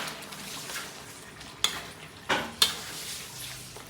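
Green peas being stirred into adobo fried rice in a hot pan: a continuous sizzle broken by three sharp metallic scrapes and knocks of the spatula, close and fairly quiet.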